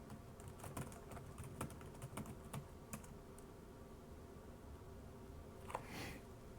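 Someone types a password on a computer keyboard. Quiet, fairly quick keystrokes come in a short burst, then a pause, then a final key press near the end, with faint background hiss.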